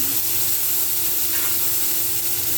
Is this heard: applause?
no